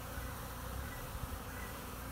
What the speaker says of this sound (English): There's bees flying all around the entrance.